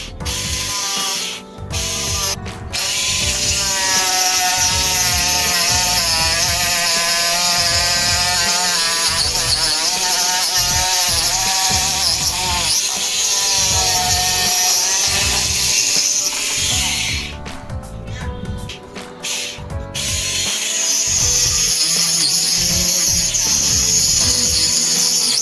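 A homemade battery-powered mini angle grinder and engraver for PVC sheet runs steadily and loudly at high speed, a continuous whining buzz with a brief dip near the end before resuming.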